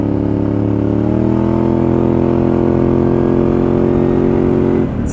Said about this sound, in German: Also es ist eigentlich ein Motorrad im Rollerform